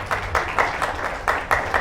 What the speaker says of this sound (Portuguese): Vamos aplaudir a cruz do Senhor.